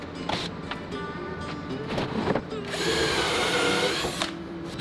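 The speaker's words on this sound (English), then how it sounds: "I used the pocket hole bit to drill straight down into the bottom panel" A power drill fitted with a pocket hole bit bores straight down into the bottom panel of a streaming desk. It gives a steady, close, loud whirring grind for about five seconds that rises in pitch and intensity midway, with no talking.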